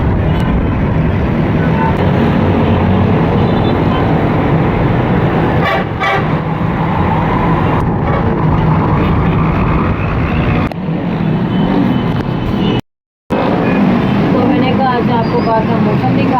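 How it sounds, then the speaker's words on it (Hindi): Road traffic passes steadily near a roadside spot facing a cemetery, with engines rumbling and a car horn honking amid ongoing talk, the noise briefly cutting out before resuming. "तो ये ऐसा तो गाड़ियाँ आती रहती हैं।"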